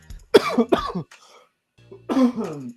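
Loud, close coughing in two sharp bursts, then a pause and a longer rough cough with throat clearing.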